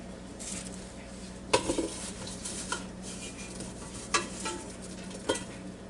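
Potatoes and baby carrots dropping into a Ninja Foodi Deluxe air fryer basket, giving a few faint, scattered clunks and rattles against a quiet background.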